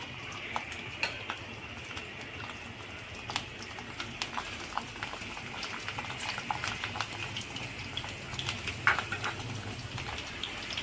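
Garlic sizzles in hot oil in a kadai with a steady, moderate crackle, punctuated by small spatters and light utensil clinks.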